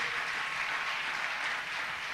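A church congregation applauding, a steady wash of clapping from many hands filling the room without pause.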